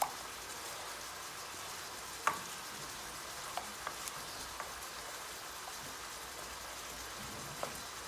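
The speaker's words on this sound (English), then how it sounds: "ground beef's cooking in the background" Ground beef frying in a pan for sloppy joes, a steady soft sizzle and crackle running throughout with a few sharp pops and spatters, fairly quiet and alone without talk.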